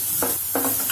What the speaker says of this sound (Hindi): अब हम डालेंगे इसमें ये ऑनियन